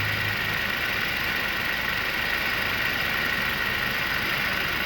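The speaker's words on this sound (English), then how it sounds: "The engine runs great," 1999 Mercedes C230 Kompressor engine idling smoothly, a steady low hum with a faint hiss, heard close and unchanging throughout with no talking.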